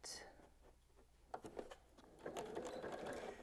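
Sewing machine stitching around a Kraft-tex wallet with 40 weight cotton thread, a close mechanical whir and needle rattle building after a few soft clicks, with a voice speaking at times.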